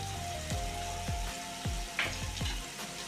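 Andhra-style fish curry with pepper powder is stirred in a pan: soft spattering sizzle broken by about five evenly spaced scraping strokes, close and moderately quiet, with no talking.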